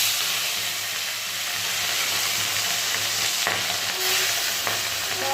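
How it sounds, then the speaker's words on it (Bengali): Pieces of cut fish fry in hot oil with a loud, dense, continuous sizzle and bubbling hiss that stays fairly even and carries no talk. "আগে এই কাটা মাছ কটা ভেজে নিই।"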